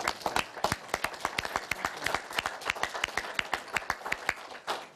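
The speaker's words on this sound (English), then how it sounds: "those stories deserve a round of applause" Scattered applause from a small press conference audience, individual hand claps sharp and distinct, forming an uneven, moderately quiet patter that runs throughout.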